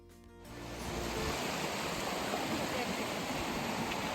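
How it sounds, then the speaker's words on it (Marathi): Steady broadband rush of water babbling and falling at Tiffany Falls in Hamilton, fading in over the first half second and then holding constant and fairly close, with no voices. "खळखळ वाहणाऱ्या पाण्याचा आवाज कानावरती पडला की माणूस सर्व काही विसरून निसर्गामध्ये"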